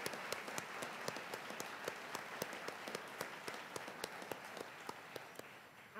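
A luncheon crowd at a nonprofit awards event gives a steady, moderately quiet round of applause for the award winners, with dense overlapping claps sustained throughout.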